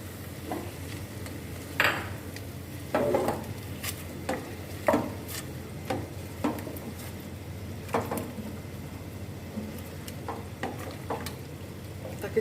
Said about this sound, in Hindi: सिर्फ दही डाल के इसको मज़ीद भूनना है चिकन को